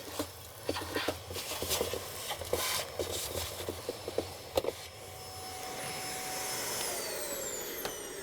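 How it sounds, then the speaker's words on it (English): A vacuum cleaner hums steadily while sucking debris out of the basket area of a Whirlpool/KitchenAid/Maytag washing machine, with rattling bits of debris at first, then a smoother, even drone toward the end. "we're going to clean up this area and vacuum out any of the big pieces"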